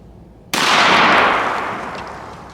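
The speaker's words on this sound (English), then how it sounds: "We're shooting Winchester Super X game loads, 2 3/4, 1290 velocity." A Mossberg 940 JM Pro semi-automatic shotgun fires a Winchester Super X 2 3/4-inch game load in one loud, close blast whose echo trails off slowly outdoors. Nobody speaks.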